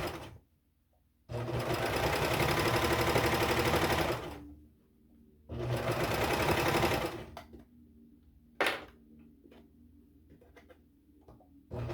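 A serger runs in two long, fast whirring bursts as it stitches a seam on a tank dress, then it falls quiet apart from a few light clicks and handling taps.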